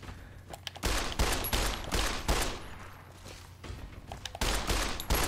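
Gunfire rattles in the video game Fallout: New Vegas, with repeated bursts and single shots in quick clusters at moderate level, no speech over them.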